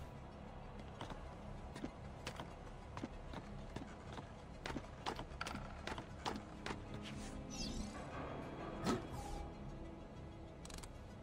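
Quick hoofbeats of a horse in Assassin's Creed 2 clip-clop in a steady trotting rhythm, moderately close, over a low background hum with a brief faint rustle near the end.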